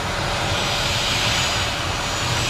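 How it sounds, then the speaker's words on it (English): Engine roar of an F-15 Eagle jet fighter, a steady, loud broadband rumble and hiss that holds constant throughout with no voices. "The F-15 is a pretty incredible airplane, actually."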